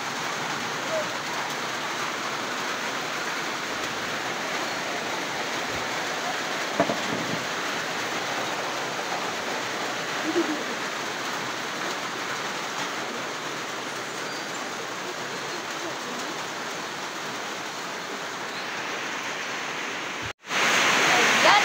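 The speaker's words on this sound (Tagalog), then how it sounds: "Lumakas po yung ulan." Dense, steady hiss of heavy rain pouring down continuously, loud and unbroken, with a sudden louder burst right at the end.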